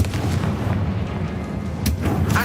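Confringo fire spell blast in Hogwarts Legacy, a loud booming burst with crackling bursts spread across the moment, dense low rumble throughout.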